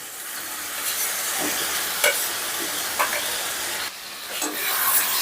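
Soybean chunks and potato stir-fried in masala hiss steadily and fairly loudly, with repeated scraping strokes of a spatula against the pan roughly every second.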